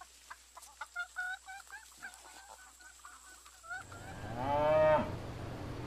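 Cows on a farm give a long, loud moo near the end, preceded by scattered softer animal calls and clucks with faint background noise.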